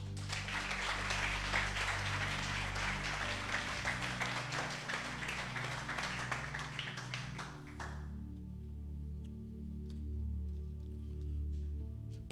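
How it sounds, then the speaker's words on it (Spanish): Congregation in a church service applauding together, a dense, steady wash of clapping that fills the first eight seconds and then drops away, leaving quieter room sound with some low hum. "¿Cuántos le dan un aplauso al Señor?"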